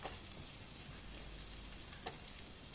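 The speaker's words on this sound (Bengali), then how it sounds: "রসুনটা একটু হালকা ভেজে নিতে হবে।" Grated garlic fries in oil in a wok, giving a steady, close sizzle with faint crackles and a soft stirring scrape, no voices.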